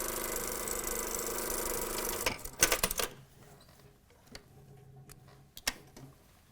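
A sewing machine stitches a vest pocket bag closed, buzzing steadily for about two seconds before stopping, followed by scattered light clicks and handling noises.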